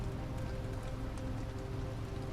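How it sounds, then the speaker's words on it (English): Steady, heavy rain in the video game Detroit: Become Human, a dense continuous hiss of drops falling hard outdoors, with a low background hum underneath and no voices. "because it is raining pretty hard out there."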